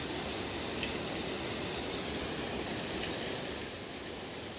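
Sea water washing over rocks on a beach in Estonia, heard as a steady, broadband rush of surf that stays loud and continuous with no voices.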